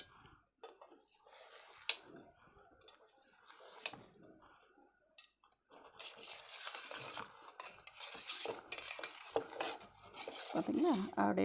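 A knife cuts a tray of soft steamed dhokla into cake-like pieces, giving faint scraping and tapping strokes against the tray that grow denser and louder through the second half.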